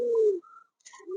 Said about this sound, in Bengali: আমার কাছে একদম ফুল ফ্রেশ কবুতর আছে